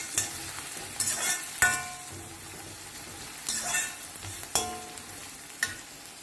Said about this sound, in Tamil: வெங்காயத்தை நல்லா சாட்டே பண்ணிப்போம்.